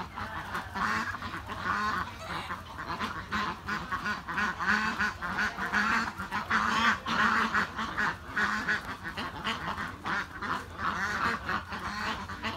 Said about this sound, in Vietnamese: Dạ vịt này vịt thịt không có trứng.